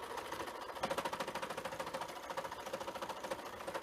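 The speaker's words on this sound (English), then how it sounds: "especially with these new and improved sewing machines" A sewing machine runs steadily with an even, fast mechanical chatter of repeating pulses, moderately loud and unbroken throughout.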